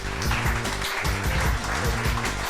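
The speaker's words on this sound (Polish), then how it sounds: "Oklaski dla Piotra." An audience at a Warsaw JavaScript web-developer meetup applauds a speaker as he is invited to begin. Steady crowd clapping runs under loud music throughout.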